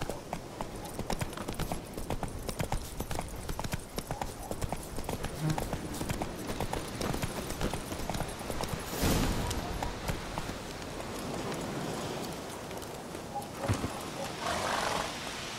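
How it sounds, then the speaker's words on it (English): Hooves of a horse gallop steadily in The Witcher 3, a continuous rhythmic clip-clop under a dense wash of ambient game sound, with a brief louder swell midway. "Run, Roach"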